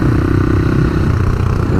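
A CCM Spitfire flat tracker motorcycle with a Husqvarna engine rumbles loudly at close range, a steady throbbing engine note with no speech over it.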